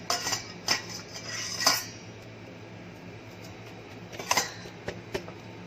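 A small spoon scrapes and clinks against a metal strainer as ground corn coffee is sifted through in a kitchen, a few scattered bright metallic scrapes and taps at close range with quiet gaps between them.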